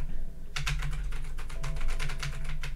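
Rapid, steady typing on a Jelly Comb KS45-3 budget wireless keyboard, its soft, quiet keystrokes clattering close by in quick irregular bursts over a low background hum.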